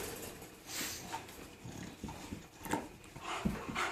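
Puppies play-fight on a rainy morning, with soft scattered growls, grunts and scuffling at close range, fairly quiet and irregular with no talking.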